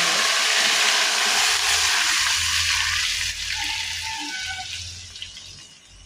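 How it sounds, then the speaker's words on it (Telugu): Hot fried tempering of cumin, black gram, dried red chillies and curry leaves poured into a simmering mango seed tamarind curry, giving a loud broad rushing sizzle that gradually fades over several seconds, with no talk. "అవి వేగిపోయినాయి కాబట్టి పోసేసుకోవాలి."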